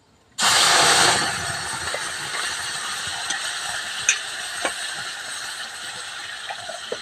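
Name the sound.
tamarind raisin spice paste sizzling in oil with panch phoron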